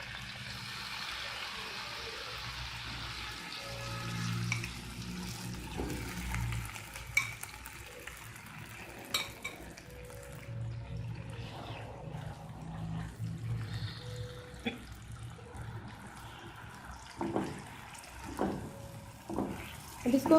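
Marinated chicken frying in olive oil in a pan for chicken tikka pizza, an uneven crackling sizzle with stirring scrapes and clatters, louder bursts near the end.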